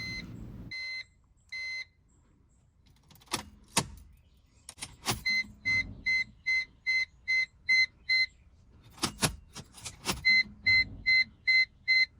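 Electronic chimes and beeps from a BMW Z4 Coupe as the ignition is cycled on and off, regular bursts of warning tones separated by clicks and short pauses, close and clear with no talking.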